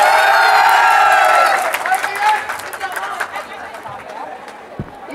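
A crowd of students at a school exhibition claps and cheers loudly, then the applause thins into scattered clapping and chatter.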